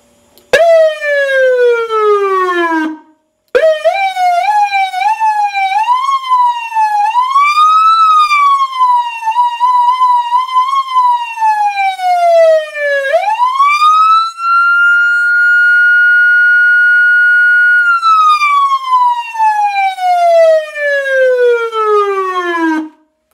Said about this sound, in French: le mode manuel, là on va avoir une sirène qu'on peut ajuster soi-même